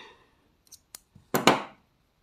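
Scissors snip yarn while a crocheted Santa Claus potholder is finished, a few light clicks of the blades followed by two quick crisp cuts close by in a quiet room.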